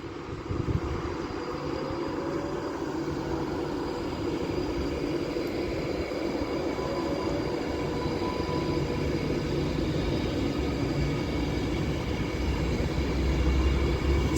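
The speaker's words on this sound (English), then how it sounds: "And it's a light locomotive" A light locomotive passing at Stafford on the West Coast Main Line, a steady rumbling drone that holds loud and even throughout, with a faint tonal whine above it and no talk.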